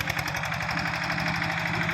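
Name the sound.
Yanmar small tractor engine running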